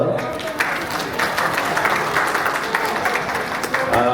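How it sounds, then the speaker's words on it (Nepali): Guests at a wedding in Pokhara clap together in a steady, dense burst of applause that carries on from start to finish, with some crowd noise mixed in. "राम्रो लाग्यो भने ताली बजाइदिनुस् त।"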